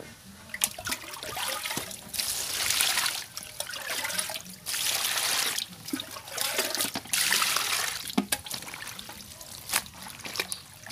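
Water splashes and trickles in surges as soaked ingredients for vegan pork roll get their third rinse, several bursts of pouring and swishing separated by brief quieter gaps.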